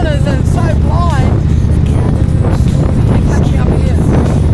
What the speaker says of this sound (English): Very windy. It's not raining too hard, it's just really blustery.